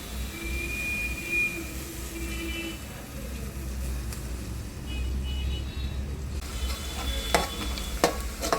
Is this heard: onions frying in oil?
yes